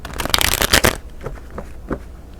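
Crystal oracle cards shuffled in a quick, loud riffle lasting about a second, close up, then a few softer taps and slides as the deck settles.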